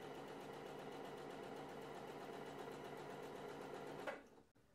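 Close, even whirring of a sewing machine stitching stretched polyester lycra jersey fabric runs continuously for about four seconds, then stops abruptly with a small click; no one talks.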